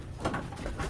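Racing pigeons returning from a training flight coo close by in soft, throaty bursts, with faint rustling in the background.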